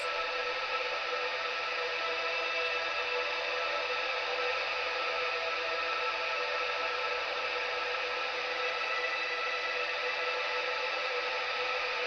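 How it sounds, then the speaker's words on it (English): A steady, hollow-sounding ambient synth drone holds an even level throughout, sustained and unchanging with no voices. "I used the exact same thing to make like a ambient drone,"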